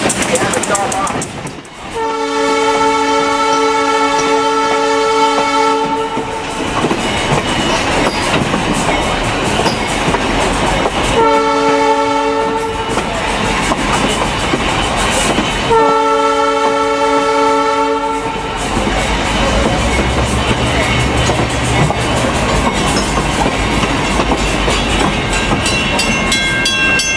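Colebrookdale Railroad excursion train rolling along with steady rumbling and clatter, its loud horn sounding in several long blasts close by.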